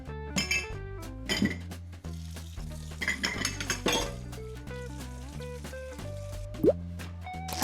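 Cleaning a messy kitchen sink: dishes and cutlery clink and knock against each other while water drips and plops, in irregular close taps over a steady background, with no voices.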